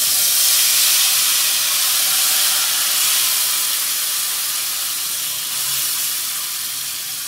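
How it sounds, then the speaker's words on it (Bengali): Mustard paste hits a hot pan and sizzles loudly, a dense, steady hissing roar that stays strong and close for the whole stretch, easing slightly toward the end. "এবার আমি এই পেস্টটা এর মধ্যে দিয়ে দেবো।"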